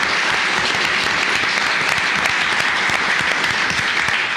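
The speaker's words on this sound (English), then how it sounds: "Let's give him a round of applause." A round of applause fills a county commissioners court, steady dense clapping from the audience at close range throughout, with no talk over it.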